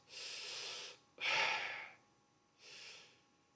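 Three deep, breathy inhales and exhales from one person doing a breathing exercise, close and fairly quiet, each lasting about a second with short pauses between, no speech.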